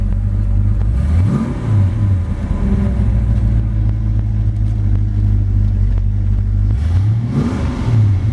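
A 1932 Ford Deuce roadster's engine runs close by at a steady idle, with two brief revs that rise and fall back, one early and one near the end, rumbling loud and continuous with nobody talking.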